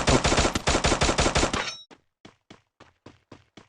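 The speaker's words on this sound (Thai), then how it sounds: "มีคนยิงจากข้างบนครับ" Rapid automatic gunfire in the video game Free Fire in a dense burst, followed by a series of separate single shots spaced about half a second apart, loud and close.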